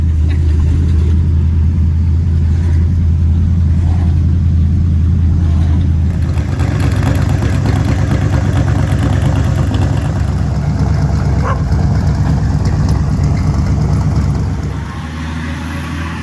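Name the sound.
Mercury Comet with swapped 302 V8 engine running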